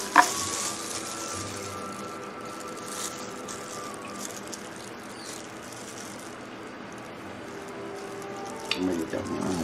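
Wild salmon seasoned with salt and pepper frying in a pan, a soft steady sizzle running throughout with a few brief clinks, quiet and close, no speech over it.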